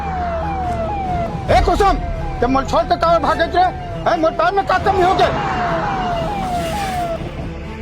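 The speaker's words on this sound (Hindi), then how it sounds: "फोन लगा एम्बुलेंस ला" A wailing ambulance siren sweeps up and down repeatedly, loud and close, while several people talk and shout excitedly over it.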